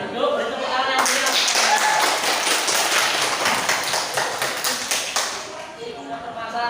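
A classroom of students claps together in lively applause during a mathematics lesson, a burst of dense clapping that starts abruptly, stays loud and steady, then thins toward the end.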